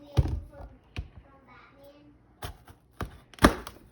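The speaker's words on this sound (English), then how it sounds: "You're going to want to cut your ends off." Knife chopping through a pepper on a cutting board, a few sharp thuds spaced apart, close and fairly loud, with quiet background sounds between strokes.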